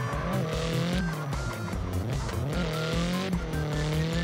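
A car drifts through a Japanese mountain pass in CarX Drift Racing 3, engine roaring steadily as tires squeal and skid continuously throughout, loud and close with no pauses.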